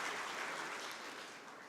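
Audience applause at the KEPSA 10th anniversary celebration, a dense, steady wash of many hands clapping that fades slightly toward the end, heard alone without talk.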